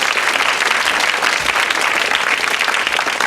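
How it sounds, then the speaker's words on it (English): Studio audience on the quiz show Blockbusters gives a sustained round of applause, a dense, even patter of many hands continuing throughout without talk. "Give her another round of applause"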